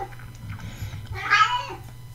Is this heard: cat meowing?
yes